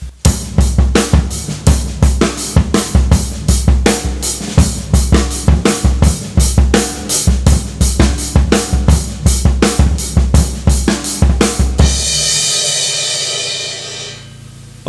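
Drum kit playing a beat with ghost notes: steady, loud hits over a deep low pulse for about twelve seconds, then a ringing cymbal wash fading out alone.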